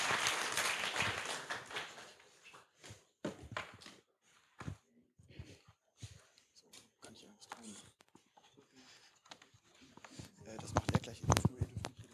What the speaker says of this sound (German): Ja, dafür nochmal einen Applaus.